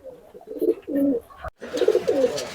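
A Pakistani highflyer pigeon from a home loft in Khulna gives two soft, close coo phrases, the first a short run of throaty pulses and the second after a brief click, with near silence around them.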